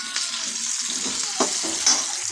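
Onions sautéing in a pan until golden for onion chutney, a steady close sizzle with scraping stirs and a couple of sharper utensil knocks, no voices.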